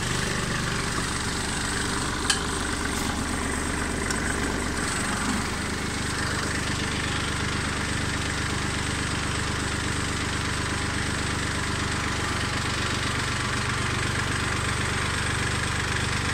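A Kubota tractor engine idles steadily and close by, a continuous low mechanical rumble with no talk over it.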